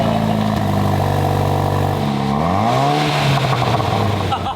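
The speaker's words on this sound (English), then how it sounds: "First start up with my new Borla exhaust." A loud car engine fitted with a new Borla exhaust rumbles and revs close by, its deep exhaust note rising and falling through a throaty rev before settling back.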